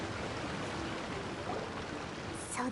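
A waterfall in Genshin Impact rushes in a constant, broad hiss of falling water, moderately soft and unbroken, with a faint chime-like game sound rising near the end.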